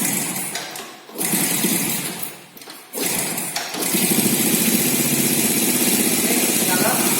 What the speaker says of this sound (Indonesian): Kita hidupkan engine, kunci kontak sudah berada di on,